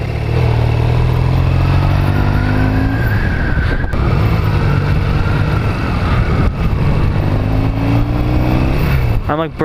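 A Motorcycle Safety Foundation training motorcycle idles and revs steadily close by, its engine tone rising and falling in a continuous drone, with a person talking over it.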